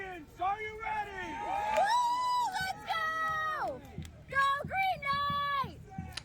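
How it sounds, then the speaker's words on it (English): A woman and a crowd cheer and whoop at a buhurt armored combat fight at a Renaissance faire, with high excited shouts and screams rising over a background of crowd babble. "And that's Kim, my wife, cheering me on as the Green Knight"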